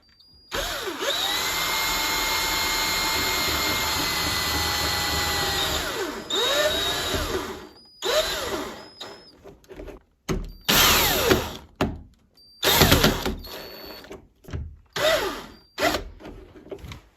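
A power drill driving screws while installing a satin nickel straight door lever, one long steady whir followed by several shorter bursts with pauses and a few clicks between them.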